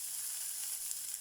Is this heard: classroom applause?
no